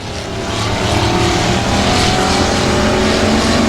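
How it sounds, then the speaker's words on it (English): Loud, continuous roar of race car engines on the Timberline Speedway dirt oval, sustained and close throughout with no talk. "The No Limit race car has no limits tonight, and that thing is singing a song in a 1 and 2"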